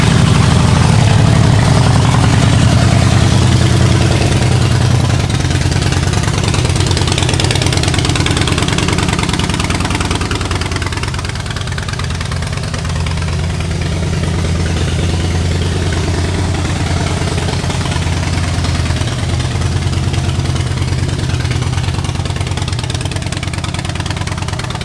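A 2008 Harley Davidson Fat Boy engine runs close and loud, a steady low rumbling idle held throughout with slight shifts in pitch and no talk.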